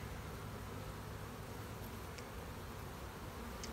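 Honeybees from a weak hive drone in a low, steady buzz while the hive is handled during condensing into a nuc, faint and continuous with a few brief higher ticks, no voices.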